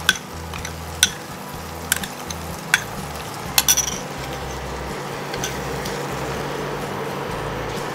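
Tomato purée and tomato hitting a hot one-pot shakshuka pan, giving a steady close sizzle under repeated sharp clinks of a utensil stirring against the pan.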